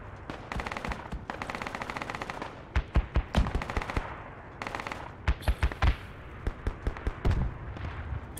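Gunfire in the military shooter Project Reality, with sustained automatic bursts followed by sharp separate shots and rapid volleys, loud and close.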